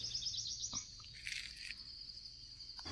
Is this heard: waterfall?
no